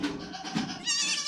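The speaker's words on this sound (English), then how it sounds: "this is the little baby goat that was thriving yesterday" A baby goat on a farm bleats in a couple of wavering, high-pitched cries, close to the listener, with a shriller call toward the end.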